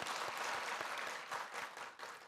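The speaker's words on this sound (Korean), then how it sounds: "우리 하나님께 영광의 박수를 올려드립니다" A church congregation at a Wednesday worship service breaks into applause, a dense, steady clatter of many hands clapping together for a couple of seconds, moderately distant and fading slightly at the end.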